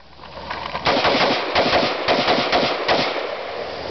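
An M4 rifle fires outdoors in rapid bursts, a dense string of loud sharp shots with short gaps, the reports ringing out over about three seconds.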